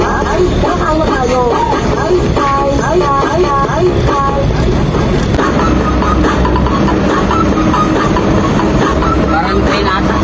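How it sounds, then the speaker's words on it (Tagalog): A train passes during a road trip through Tarlac City in the Philippines, a loud, continuous rumble and rattle heard close over road and engine noise, with a person speaking early on. "Parang train ata"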